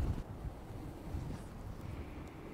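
Wind buffets the microphone on a shoreline during squid fishing in bad weather, a steady low rumbling gust with faint surf underneath.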